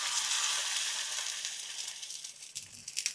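Mustard seeds and dried curry leaves crackle and sizzle in hot oil for tempering, a steady close hiss with scattered sharp pops that grow more frequent toward the end.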